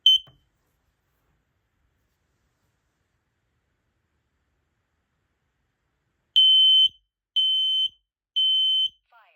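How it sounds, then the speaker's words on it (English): A Kidde TruSense 2070-VASCR hardwired smoke and carbon monoxide alarm sounds its test: a short chirp, a pause, then three loud, shrill beeps in a steady rhythm, close and alone. "Let's go ahead and push the test button and test it."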